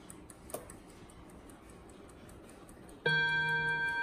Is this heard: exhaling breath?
no